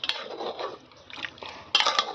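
A metal spatula scraping and clinking against a pan while a large batch of chicken meat is stirred, irregular close scrapes with a sharper clatter near the end.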